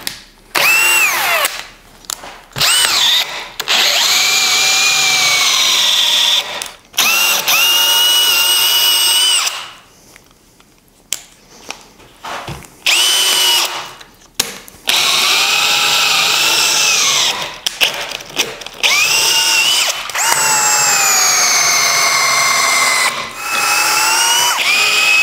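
A power drill with a built-in hammer function boring into wood, whining loudly in long high-pitched runs that rise and fall with load, broken by short pauses and a few quieter gaps.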